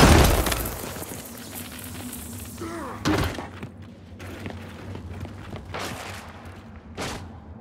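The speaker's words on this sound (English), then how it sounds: "incoming flashbang." A flashbang grenade goes off in the video game Gears 5, giving a sharp burst around the middle followed by scattered cracks and impacts amid ongoing game noise.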